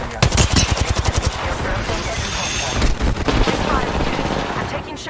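Rapid bursts of gunfire from an Apex Legends match ring out loud and close, with dense automatic volleys early on and another flurry near the end, mixed with game voice lines.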